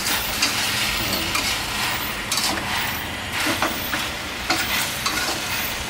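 Fried crispy catfish is tossed with a spicy stir-fry sauce in a pan, giving a loud, close sizzle with bursts of scraping and stirring clatter at irregular intervals and no voices.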